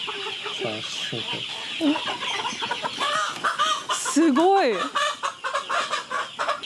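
Chickens at a poultry farm on Negros Island in the Philippines cluck and squawk loudly and agitatedly while being caught by hand, the close, rapid calls overlapping with a person's brief talk.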